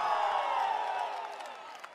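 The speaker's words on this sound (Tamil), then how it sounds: "ஆரவாரம் எழுச்சி" A large political rally crowd of women at Kallakurichi cheers and roars in a sustained wash of voices that slowly fades.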